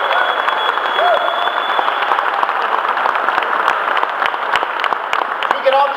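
Applause from an audience at a ceremony honoring a colonel: a steady, dense wash of clapping close by, with a voice and a brief whistle or cheer mixed in.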